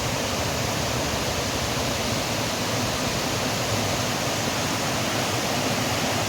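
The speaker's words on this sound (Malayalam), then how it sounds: "തട്ടുതട്ടായിട്ട് വെള്ളം ഒഴുകി പോകുന്നത് നല്ല രസമാണ്" Water pours down the tiered rock steps of Meen Muttippara waterfall in Mallappally, Pathanamthitta, a loud, steady, unbroken rushing roar that stays even throughout without any voices.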